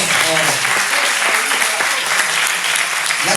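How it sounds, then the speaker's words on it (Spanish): Loud, dense applause from the audience at a Spanish-language entrepreneurship panel discussion, a thick wash of clapping that holds steady, with faint voices mixed in. "Un aplauso, por favor."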